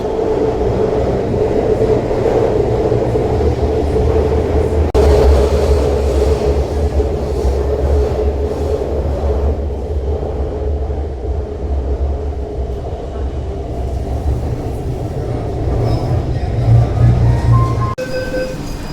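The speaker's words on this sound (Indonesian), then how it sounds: "ini keretanya udah lanjut lagi jalan sampai akhir Chenhai Road" A metro train in Xiamen runs toward Chenhai Road with a steady low rumble and rattling, and a voice speaks intermittently over the noise.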